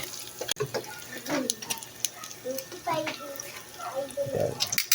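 Water running and draining through a sink drainer, a soft, continuous splashing trickle close by, with people talking over it throughout.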